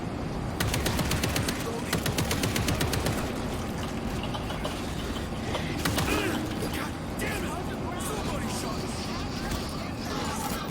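Rapid automatic gunfire in the zombie shooter World War Z, repeated rattling bursts at a moderate distance running throughout, with players talking over the shooting.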